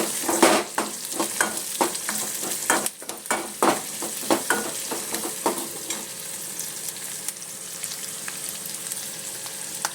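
Chopped onions fry in a hot pan while a spoon stirs them repeatedly, quick clustered scrapes over a loud continuous sizzle that settles into steadier hissing toward the end.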